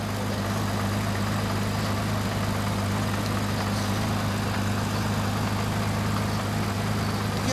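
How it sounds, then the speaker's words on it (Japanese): A Honda CBX1000 six-cylinder motorcycle engine idles with a steady, low rumble that goes on without a break, a constant droning hum with no speech over it. "エンジンかかってるな"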